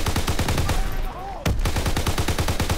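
Rapid automatic gunfire in the World War II shooter game Call of Duty: WWII, loud and close, with a brief pause before the burst resumes in a steady rhythm.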